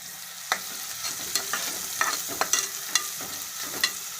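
Onions sizzle in a pan for beef curry, close and clear, with a soft steady hiss broken by irregular scraping stirs and small spatters, and no talk.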